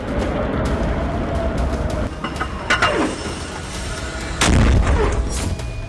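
Heavy booming blasts and deep rumbling from missile and rocket strikes in Tel Aviv roll through a loud, noisy scene, with a sharp explosion near the end, all fairly close and without speech.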